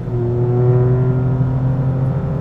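Steady tyre roar and road rumble from a prepared Toyota GR Yaris driven on a time-attack track, continuous and fairly loud, with a low engine drone underneath and no talking.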